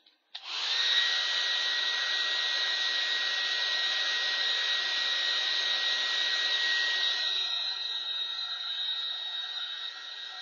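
A handheld dryer blows air over a handmade steampunk playing card, a steady loud whoosh that starts abruptly and runs unbroken, close up and alone.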